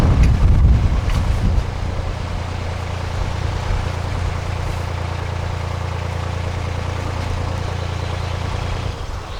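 Wind buffets the microphone on a canal narrowboat entering a lock, a steady broad rush over the low drone of the idling boat engine, louder gusting in the first second and then a constant blustery hiss.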